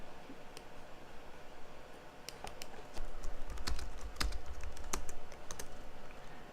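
Quiet keystrokes on a computer keyboard as a command is typed, sparse separate clicks that quicken into a brief run near the end, close and faint over a soft room hiss.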